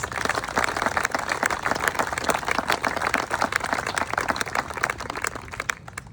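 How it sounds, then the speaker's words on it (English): Crowd applause at an opening day gathering, a steady, dense wash of many hands clapping throughout, loud and continuous with a slight drop near the end. "So please give them a huge round of applause."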